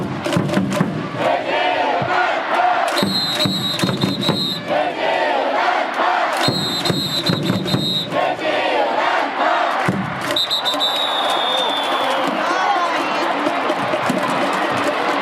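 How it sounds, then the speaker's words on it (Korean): A large crowd at a Korean pro baseball game cheers and chants loudly, led by cheerleaders, while rhythmic clapping repeats through the whole stretch, with whistle-like tones cutting in periodically. "박수 소리도 크게, 목소리도 크게."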